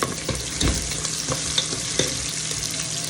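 Ginger sizzling and frying in a pan with bagoong while cooking Bicol Express, a continuous crackling hiss with occasional sharper pops and stirring clacks, close and alone without voices.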